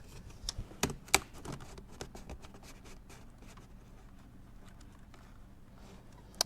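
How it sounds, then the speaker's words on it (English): A flat blade screwdriver works a plastic retaining ring off the intake duct of a BMW i8, giving a few sharp close clicks and light scrapes early on, then faint scratchy handling noise. "all we're going to use is a flat blade screwdriver in order to undo this ring right here"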